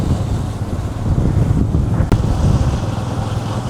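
Strong wind blows across Nainativu island near Jaffna, a loud, continuous gusty roar buffeting the microphone, with a brief sharp click partway through and no talking.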